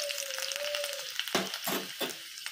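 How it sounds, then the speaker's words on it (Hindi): Chopped garlic drops into a small pan of hot mustard oil for a tadka, giving a steady loud hiss and crackle with a few sharper spatter bursts and a faint whistling tone early on. "उसमें मस्टर्ड ऑयल है, ये गर्म हो चुका है। इसी दौरान हम लोग डालेंगे कटा हुआ लहसुन।"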